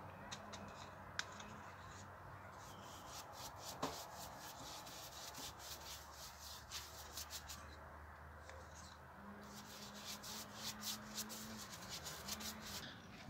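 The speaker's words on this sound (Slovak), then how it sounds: "A celé šasy zo spodu natrieme." A brush spreads rust converter over the rusty underside of a lawn mower chassis, giving a steady scrubbing, rubbing sound with faint rhythmic strokes throughout.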